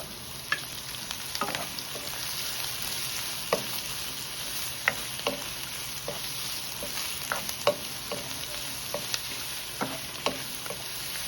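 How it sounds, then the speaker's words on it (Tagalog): Mixed vegetables and mushrooms sauté in a pan with a continuous close sizzle, broken by repeated scrapes and taps of a spatula stirring at an uneven pace, with no voices. "Ginigisa ko na."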